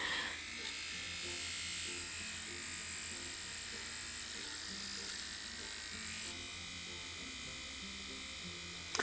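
A small pocket electric face shaver runs with a steady high buzz close to the microphone, humming continuously for the whole stretch with a slight shift in tone partway through.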